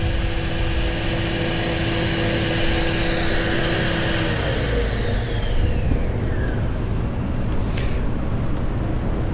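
SCM Class TF 130E spindle shaper with motorized elevation runs its spindle in reverse rotation, a loud continuous motor whir and hum with a pitch that slowly shifts as it spins down, close and without talk.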